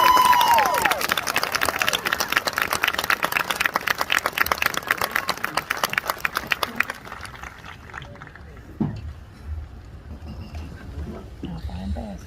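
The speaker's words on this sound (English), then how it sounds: "Please join me in giving these students a huge round of applause." A graduation ceremony audience claps for the graduating students in dense, sustained applause that fades out after several seconds, followed by quieter room noise and some talk.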